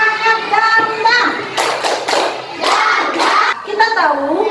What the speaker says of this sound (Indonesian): Nah, 1, 2, 3, tepuk semangat dangdang.